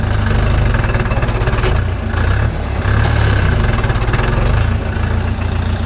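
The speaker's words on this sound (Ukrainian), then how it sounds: "Трактор не може рушити." A small Chinese mini tractor engine chugs loudly and steadily up close, laboring under load on an uphill slope with a low, rough throbbing rhythm.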